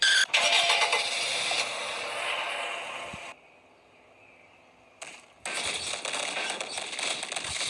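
Car engine in a Roblox train game starting up and running at a steady mid-pitched idle, cutting out briefly to near silence, then firing up again with a sharp burst.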